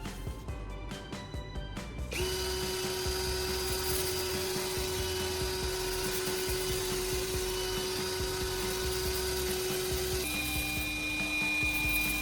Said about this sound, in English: I'll carefully run the dull blade along the spinning sandpaper, maintaining a consistent angle.